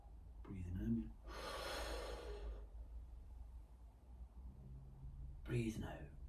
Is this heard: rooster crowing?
no